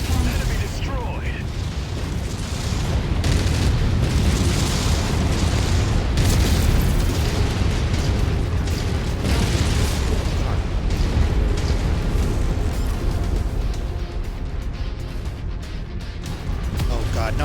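Mech unit blowing up in MechWarrior 5: Mercenaries amid battle, a long dense wall of booming blasts, crackling bursts and heavy mechanical rumble under frantic talking, loud and sustained throughout.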